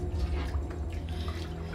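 Water drips into a bath in an animated short, soft irregular drops over a steady low hum and a faint watery wash, with no voices.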